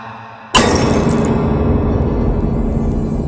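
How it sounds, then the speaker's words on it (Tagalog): A glass liquor bottle shatters in one sudden loud crash, followed by a lingering rattling, noisy tail with no voices. "dahil sa may nabasag na bote ng alak"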